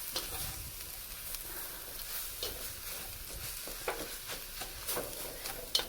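Cabbage and vegetables stir-fry in a pan for Mu Shu chicken, a steady close sizzle broken by soft scraping stirs and light clicks, with no one talking.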